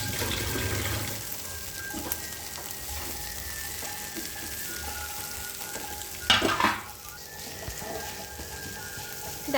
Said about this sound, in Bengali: দেখো ভাজা ভাজা করে নিলেই রেডি হয়ে যাবে আজকের টিফিন চাউমিন